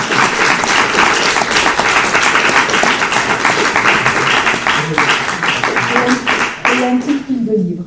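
An audience at a book presentation and signing in Geneva breaks into loud, sustained applause, dense clapping that carries on for several seconds before thinning out near the end as a voice begins to speak.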